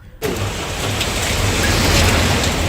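Heavy monsoon rain pours steadily in Kerala, a dense, loud, continuous hiss that starts abruptly after a brief quiet moment and holds without a break to the end.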